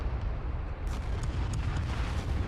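Artillery rounds firing continuously in a wartime strategy game, a steady rumbling barrage of booms and bursts at moderate loudness with a few sharper impacts breaking through.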